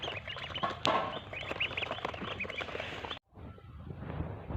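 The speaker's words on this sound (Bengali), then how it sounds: "এই যে এখানে মুরগি মুরগি চারটা ছিল" Hens cluck and chatter close by over farmyard noise, with a brief louder squawk, then a short drop to quieter background before the clucking resumes.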